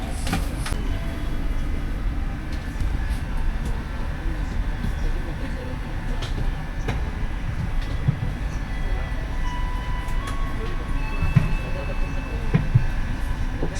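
An economy-class Mataram passenger train running, heard from inside the carriage as a continuous low rumble and hum with faint clicks and rattles, steady throughout.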